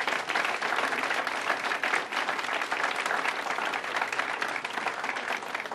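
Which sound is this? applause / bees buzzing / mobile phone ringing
applause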